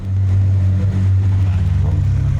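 A Buick Grand National fitted with a Hurricane engine roars loudly close by on one of its first starts in an Arizona neighborhood, its deep exhaust note rising steadily as it accelerates.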